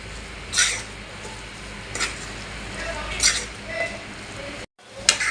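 Fresh small shrimp sautéing with kokum, turmeric, Malvani masala and salt in a pan, a soft steady sizzle with occasional scraping stirs, quiet and close.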